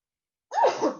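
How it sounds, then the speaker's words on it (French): A single short sneeze bursts out after half a second of silence, fairly soft and close. "petit éternuement"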